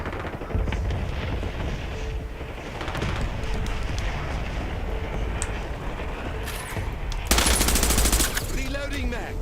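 Video game gunfire rattles in rapid automatic bursts against continuous battle noise, loud and close, with a sharp louder volley near the end.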